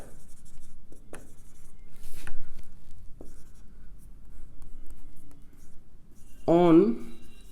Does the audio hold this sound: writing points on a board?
yes